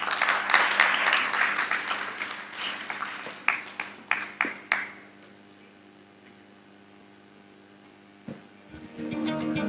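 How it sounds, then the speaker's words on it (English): Applause from a conference audience after a speech at the 14th Africa Ministerial Cooperative Conference, loud at first and then thinning into scattered claps before fading to low room hum, with a faint return of sound near the end. "Another round of applause for our first lady speaker, Honorable Jane Sidole"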